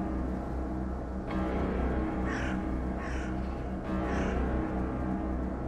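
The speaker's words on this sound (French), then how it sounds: "des corbeaux avaient envahi ses champs, dont certains tournoyaient autour de la grange" Crows caw over a farm field and around a barn in an animated horror story, three harsh calls spaced about a second apart over a steady background hum.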